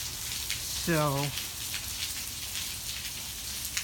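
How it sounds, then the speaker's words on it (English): Steady rain patters on surfaces during a thunderstorm, a dense close hiss throughout, with a dog's short whine or voice briefly rising over it near the start. "while we watch the rain"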